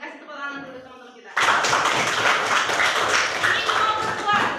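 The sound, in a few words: applause for classmates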